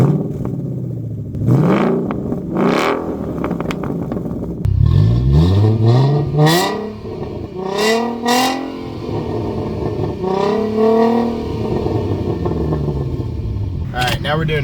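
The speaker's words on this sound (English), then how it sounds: "now we're doing a 0 to 60 pull on the GT" A Ford Mustang GT V8 revs and accelerates hard from a standstill toward 60, its engine note sweeping upward through several gear changes with short dips between pulls. The sound is loud and close, and voices are heard alongside it.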